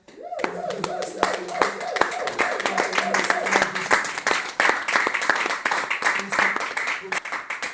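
Church congregation clapping in a steady rhythmic beat, loud and sustained throughout, with voices singing or calling out over the applause.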